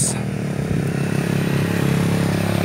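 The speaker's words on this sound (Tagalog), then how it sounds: "Daghan jud kaayong motor ang bukid karon." Motorcycles run along a rural mountain road, a loud, steady close engine drone with a rough, clattering mechanical texture throughout.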